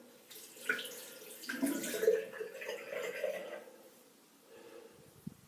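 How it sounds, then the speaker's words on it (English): Running water from a tap rinses a razor blade after a shave, a soft hiss of flowing water rising and falling for several seconds with brief clinks, quiet and close. "I've been running the blade under the tap to clean it off"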